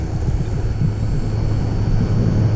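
A radio-controlled T-28 Trojan model airplane's engine drones loudly and steadily at cut-back throttle during a touch-and-go landing, a continuous close buzz with a faint high whine and no speech.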